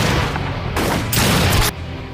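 Gunfire in a gangster fight scene from a film, a dense volley of sharp overlapping shots and booms rattling in quick succession for about two seconds.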